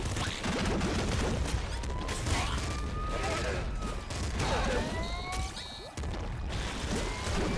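Rapid bursts of plasma cannon fire in the top-down shooter Nuclear Throne, loud and continuous, with crashing impacts and synthetic whooshing over a busy game soundtrack.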